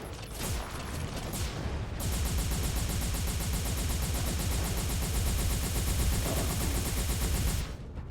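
Beam rifle fire in the video game M.A.S.S Builder, rapid continuous bursts of fire hammering away for several seconds after a couple of opening shots, then stopping abruptly.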